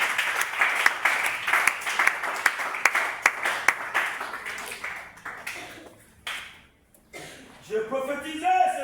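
Church congregation clapping in rhythm during worship, a sharp regular beat of claps that thins out and fades, followed by voices and music.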